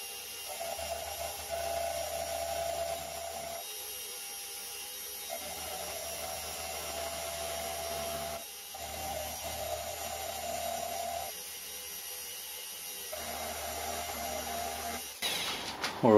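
A milling machine takes a roughing cut on a homemade stepped milling clamp, a steady whirring, grinding drone with a low hum that drops and resumes several times as the cut pauses, moderately loud and without talk.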